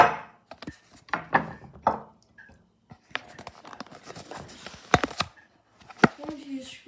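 A knife chopping tofu on a cutting board, a series of irregular close taps and knocks with brief pauses between strokes, some light rustling mixed in.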